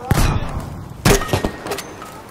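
Grenade blasts in a video game shooter, two sharp booming bursts about a second apart followed by smaller thuds and crackling debris, loud and close.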